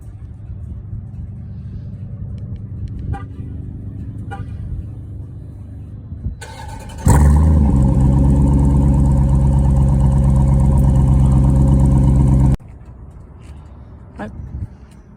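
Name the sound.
2020 Dodge Durango SRT 392 engine startup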